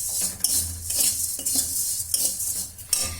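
Vermicelli (sevai) roasting in a pan as a utensil stirs it, with repeated close scraping and clinking strokes over a soft sizzle, steady in rhythm and without speech.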